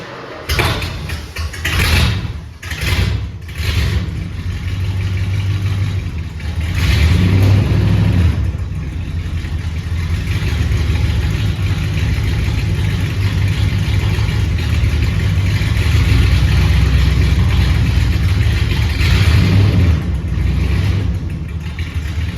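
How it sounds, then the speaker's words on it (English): A 1976 Plymouth Fury with true dual straight-pipe exhaust runs loud and close, opening with a few sharp bursts before settling into a steady, throaty rumble that swells briefly midway. "Now I'm gonna get a video of it running because, wow, this new exhaust is pretty sweet."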